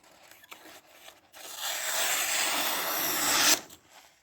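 A sustained rough, tearing rasp of a blade cutting through material, lasting a couple of seconds after a few quieter taps and scrapes, close and fairly loud.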